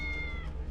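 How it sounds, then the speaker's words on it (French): A single short cat meow in the video game Tales of the Neon Sea, clear and fairly close, with a slightly electronic quality, heard alone. "Mais je suis sûr que c'est un chat qui miaule."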